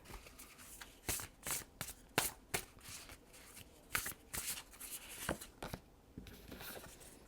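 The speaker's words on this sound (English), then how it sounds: "I'm gonna go ahead and pull another card." Tarot cards are shuffled and drawn close up in a quiet room, giving repeated crisp riffling bursts and soft slides with brief pauses between them and no voice.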